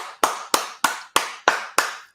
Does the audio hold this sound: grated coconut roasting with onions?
no